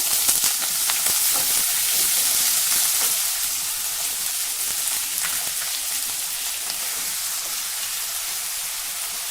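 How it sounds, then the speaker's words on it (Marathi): Peanuts, green chili and thin potato slices fry in hot oil in a pan, giving a steady, close, hissing sizzle that continues evenly without any voices. "आता हा बटाटा थोडा अर्धवट मऊ होईपर्यंत आपण परतून घेऊ"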